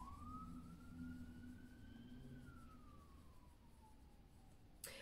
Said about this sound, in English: I'm just going to let the siren go past.